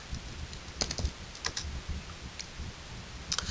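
Typing on a computer keyboard to enter a software name into a search box, heard as scattered close key clicks in short bursts with pauses between, alone without speech.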